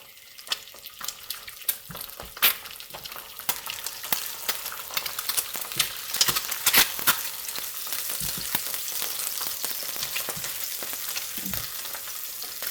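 Eggs frying in a pan in a home kitchen, a steady close crackling sizzle with scattered pops and light stirring or scraping throughout.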